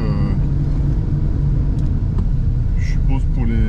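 Hundreds of trucks queue at the Honduras border, giving a steady low engine rumble and idling drone close by, with a few brief higher squeals and clanks near the end.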